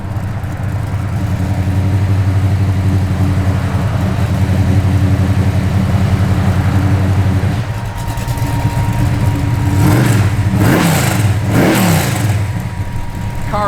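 A 1972 Buick Gran Sport idles with a steady low rumble, then revs up sharply several times in quick succession near the end, each rise and fall clear and close.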